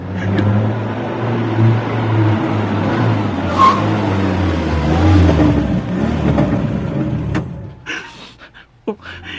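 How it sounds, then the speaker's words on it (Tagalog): A garbage truck drives along a city street, its engine rumbling loudly up close with shifting revs and a fading pass, ending in quieter clatter and a few sharp knocks. "Mihulong kinig truck sa basura."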